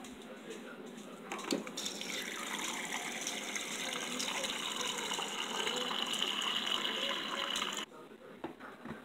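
Water runs steadily from a faucet at home in a continuous rushing stream, close and moderately loud, then cuts off near the end, with voices talking faintly nearby.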